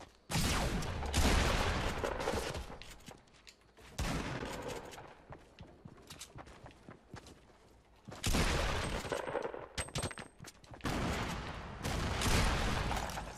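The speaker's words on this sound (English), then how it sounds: "Why was he throwing grenades at me?" Grenades exploding in Fortnite Battle Royale, a run of loud broadband blasts in clustered bursts with short quieter gaps between them.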